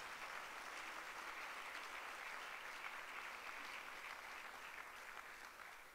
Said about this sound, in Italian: grazie Elisabetta, farei un grande applauso, grazie Elisabetta Sgarbi per...